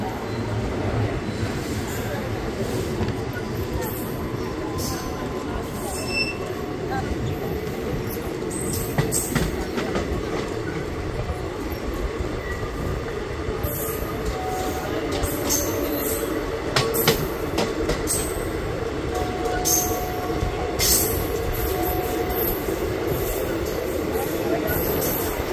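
A passenger train halts at Bihar Sharif station. Wheels rumble and squeal steadily with intermittent metallic clanks, under faint background voices on the crowded platform.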